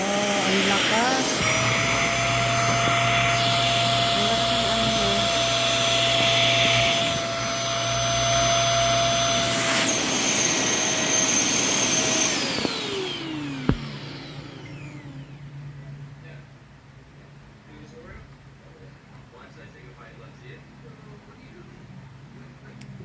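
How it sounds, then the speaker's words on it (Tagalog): A vacuum cleaner cleaning a bedroom runs with a loud, steady whine and roar, shifting pitch as it works, then winds down and stops, leaving quiet voices. "Vacuum cleaner."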